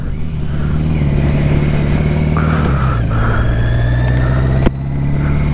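Yamaha XJ650 Maxim motorcycle riding, an older high-mileage bike, its engine droning steadily and loud throughout with a slight shift in pitch midway and a brief sharp knock near the end.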